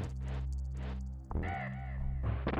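Crows caw in a Donkey Kong Country level: two harsh calls are followed by a rising squawking cry, all clear and near against a steady low musical drone.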